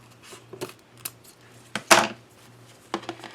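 Scissors cut open a package of ribbon while bows are being made: a few short, crisp snips over a low steady hum, with one louder, crunchier cut midway.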